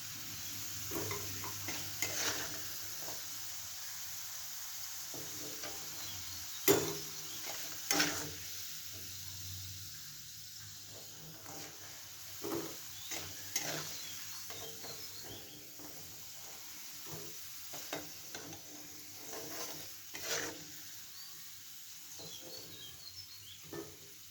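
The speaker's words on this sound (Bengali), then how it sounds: "আলুগুলো আমার ভাজা হয়ে গেছে, এখন আমি তুলে নেব।" Red-fried potatoes finish sizzling in hot oil in a home kitchen, with a soft steady crackle broken by sharp clinks and scrapes of a utensil stirring against the pan.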